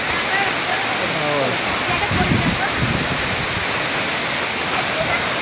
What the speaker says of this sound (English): Now the water is falling, and I am feeling the speed and air.